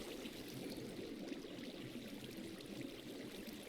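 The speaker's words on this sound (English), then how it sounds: "the waterfall will eventually come back on and hide the base" A Minecraft waterfall flowing again, a soft, steady rushing wash of water, fairly quiet and continuous with no other sounds.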